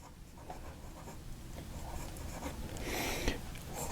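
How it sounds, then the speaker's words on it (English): Franklin-Christoph fountain pen with a stub nib writing on paper, a soft continuous scratchy glide with steady strokes, close and quiet, growing slightly louder toward the end. "This nib glides across the paper"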